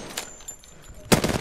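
Apex Legends training-range gunfire: faint scattered shots give way to a loud, fast burst of automatic fire at the very end.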